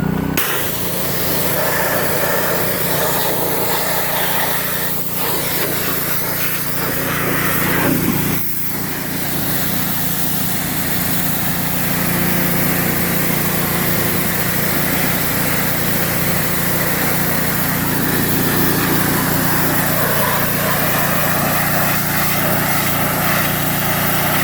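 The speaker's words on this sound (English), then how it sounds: "Does anybody else get it really satisfying whenever you're power washing?" A pressure washer engine drones steadily while a Polaris Ranger 900 XP utility vehicle is washed down, a constant close whine with a hissing spray texture, alone with no talk, pausing briefly partway through.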